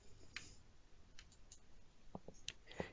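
A single mouse click registers as someone clicks a plus sign in risk assessment software, with a few faint, sharp ticks scattered over quiet room noise.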